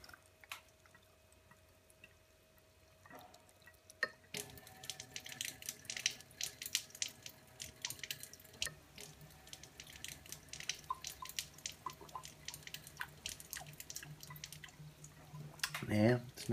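Water runs and drips from a water ionizer tap, fairly quiet and close, bubbly, with someone talking over it.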